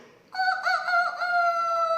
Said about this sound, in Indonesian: Siapa yang suka dengar ayam berkokok?